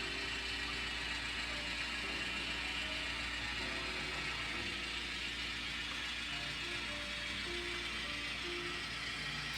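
An HO scale Rapido GE 44-ton model locomotive pulling boxcars rumbles and clicks along the track at a steady pace, with faint mechanical whirring and light rhythmic ticking, fairly quiet throughout.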